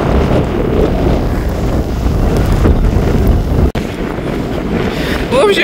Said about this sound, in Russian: Ужасный ветер.